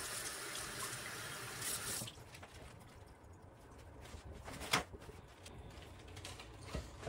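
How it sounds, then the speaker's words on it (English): Tap water runs into a kitchen sink while food from a bag is rinsed: a steady hiss of flowing water for about two seconds, then it cuts off, leaving quiet drips and small splashes. "You want to rinse it off in the sink."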